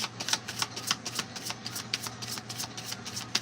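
Tarot cards are shuffled in a rapid series of crisp riffling snaps, close and fairly loud, repeating about three times a second with no voices.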